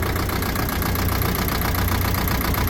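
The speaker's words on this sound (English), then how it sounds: "Definitely has an exhaust leak." A crane engine idles with an exhaust leak, making a loud, steady, rough chugging rumble with a ticking knock. It runs close and continuous, with no talking.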